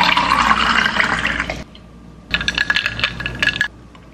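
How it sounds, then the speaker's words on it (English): Pink drink strained into a cup, then ice cubes and strawberries poured on top: a loud splashing pour, a brief quiet gap, then a clattering burst of ice tumbling into the cup, close and unvoiced. "we're gonna strain it first and then pour the remaining ice cubes and strawberries right on top"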